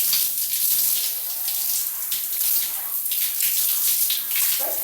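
Shower water running over hair during rinsing, a steady bright hiss of spray with small fluctuations as the flow is moved around, continuous and close with no talking.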